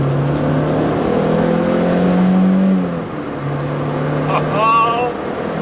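Peugeot 205 GTi engine revving under heel-and-toe downshifts, a steady near drone rising and falling in pitch with brief blips, while someone talks over it.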